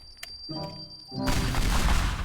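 A sudden heavy boom from a bomb explosion in the video game Teardown bursts in and rolls on as a loud, rumbling blast after a few quieter electronic tones.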